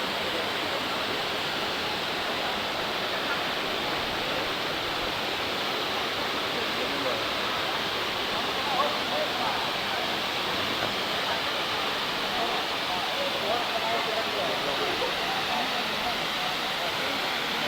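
Phlio Falls in Chanthaburi's national park roars as a steady, unbroken rush of falling water, dense and even throughout with no pauses, filling the space at moderate loudness.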